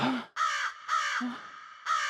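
A crow gives three loud, harsh caws at a steady pace, close and clear, with short gaps of quiet between them.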